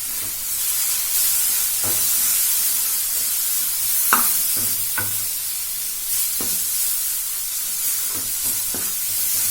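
Haldi, red chili, coriander and cumin powder fry in a pan with a loud, steady sizzle and steam hiss, broken by repeated scrapes and clacks of a spoon stirring.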